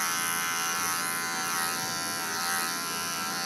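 Electric clippers fitted with a 10 blade buzz steadily and close up while shaving a poodle's tail backwards, a continuous high whine with slight wavering in pitch and no talking.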